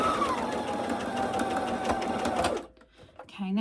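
A sewing machine stitches straight across quilted fabric for a padded zipper tablet bag, a fast, close mechanical whir with a falling motor whine that stops suddenly, leaving a brief quiet moment before a faint voice.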